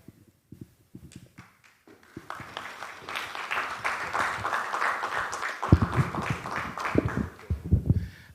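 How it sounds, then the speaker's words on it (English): Audience applause rises and swells steadily in a hall at a Graphic Business and Stanbic Bank business breakfast meeting, following a few scattered early claps, with some louder bursts near the end. "Let's welcome him with a round of applause as he gives us some brief remarks."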